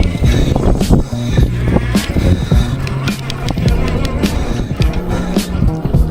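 A supermoto motorcycle engine revs hard and bursts in choppy, rising pulses as the bike is pulled up into a wheelie on SoCal streets, loud and close with rough wind buffeting.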